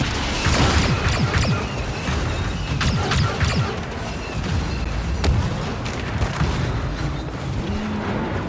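Grenade blast in Star Wars Battlefront II (2017) on Crait, a loud booming crash amid continuous battlefield noise of gunfire, impacts and rumble lasting throughout.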